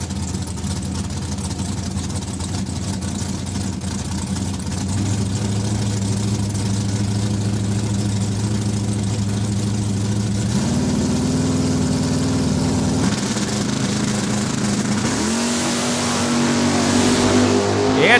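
Drag race cars, including a Corvette, launching at the line at Saskatchewan International Raceway: loud sustained engine roar with rising pitch steps as revs climb and gears change, steady and close throughout with no talk.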